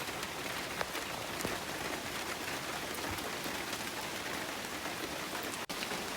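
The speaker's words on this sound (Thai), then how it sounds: "พอดีฝนตกลงมาแล้ว" Steady rain pours down over a rural rubber plantation in Laos, a dense continuous hiss with scattered drop patters and no voices.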